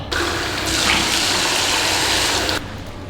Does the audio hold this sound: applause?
no